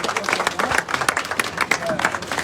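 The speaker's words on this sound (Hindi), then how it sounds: "तालियों के साथ स्वागत किया जाए भाई हरदीप सिंह का।" A crowd claps in scattered, lively applause to welcome Hardeep Singh at a political rally, with someone speaking over the clapping through a loudspeaker.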